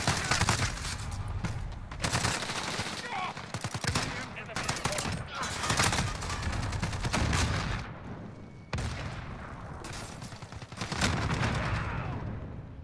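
Rapid automatic gunfire in a first-person shooter video game with an FAL rifle, dense loud bursts of shots filling the whole stretch, a brief gap near the end before firing resumes.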